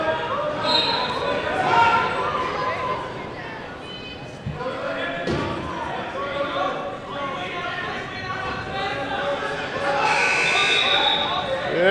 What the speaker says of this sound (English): The buzzer runs out.